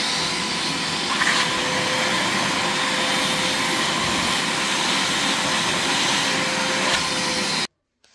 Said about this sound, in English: We're gonna shop vac it just to be safe.